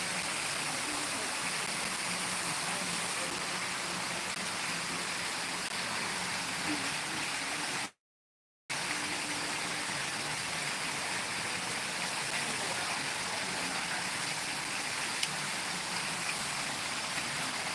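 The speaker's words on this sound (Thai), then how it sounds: "ฝนตกนะฮะฝนตก" Steady rain falls in an even, continuous hiss, with one short gap of silence partway through.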